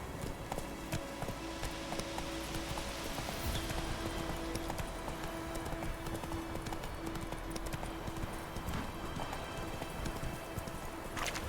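Horse hooves galloping in The Witcher 3 video game, a steady rapid clip-clop rhythm running throughout, dense and close over continuous game background sound.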